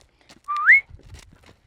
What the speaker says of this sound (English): I'm gonna whistle when I step off the mark